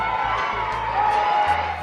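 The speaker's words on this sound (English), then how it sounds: "Our camera spotted school students and a few other tutors cheering up these athletes" School students and tutors cheer athletes at a track, a continuous crowd of shouts and whoops at moderate distance, with no clear individual speech.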